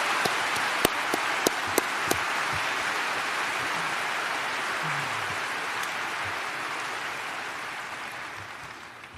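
Audience applause at the Berkshire Hathaway 2019 shareholder meeting, a broad steady wash of clapping from a large crowd filling the whole stretch, with a few sharper individual claps standing out early on.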